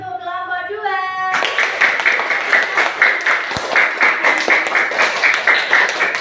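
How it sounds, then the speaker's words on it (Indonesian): Applause for group 2 in a classroom, a crowd clapping together in a steady rhythm that breaks in suddenly after a brief stretch of music or tones and carries on to the end. "Mari kita beri tepuk tangan untuk kelompok 2."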